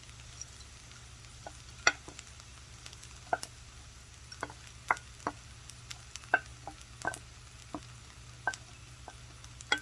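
Bacon added to fried rice in a pan, giving a faint, steady sizzle with sharp scattered clicks and taps of stirring against the pan, fairly quiet throughout.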